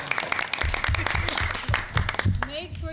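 Scattered clapping at a board of directors meeting, broken and uneven bursts of hands rather than a full ovation, with voices talking over it throughout.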